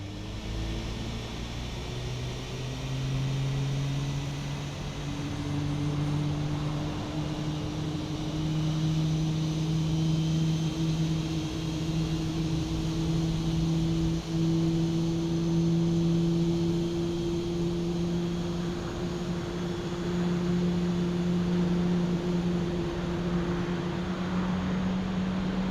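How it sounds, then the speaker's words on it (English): Airbus A320neo jet engine in Microsoft Flight Simulator spooling up, a steady whine rising slowly in pitch over a broad continuous roar, sustained and even with no talking. "engine number 1 spooling up here"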